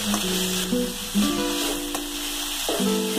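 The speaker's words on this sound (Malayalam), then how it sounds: "മുരിങ്ങക്കായ ആഡ് ചെയ്ത് കൊടുക്കാം എന്നിട്ട് നല്ലതുപോലെ ഒന്ന് ഇളക്കി കൊടുക്കണം" Boiled drumsticks are stir-fried in a pan with a soft continuous sizzle and occasional stirring scrapes, close and steady beneath a background tone, with no talk.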